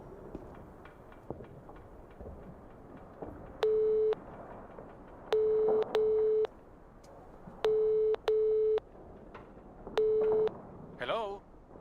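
A telephone in NiBiRu: Age of Secrets plays a repeating line tone. Steady beeps sound alone or in pairs with short gaps between them, over faint background noise.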